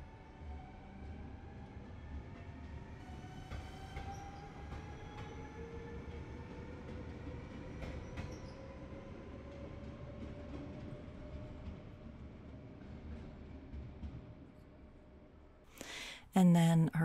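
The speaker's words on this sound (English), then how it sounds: "in the evening, we took a train to go and see my aunt in Castricum, which is about a 25-minute train ride" A Dutch passenger train runs between Haarlem and Castricum, heard from inside as a steady, even rumble of wheels on track with faint rising whines, ending in a brief louder clatter near the close.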